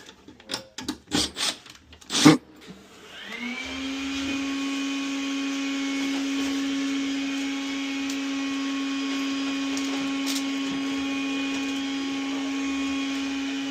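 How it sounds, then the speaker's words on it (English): Near the start come a few clicks and knocks, then a hoover switches on and settles into a steady, loud whining drone with a strong hum that runs unbroken to the end. "got the hoover on now when I'm trying to do my recording for you boys"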